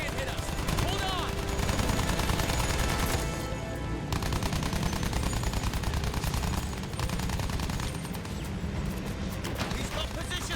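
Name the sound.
aircraft gunners firing, from video game Battlefield 1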